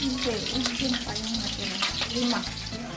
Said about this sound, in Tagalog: Silipin natin yung niluluto naman ni nanay dito. Pritong tulingan.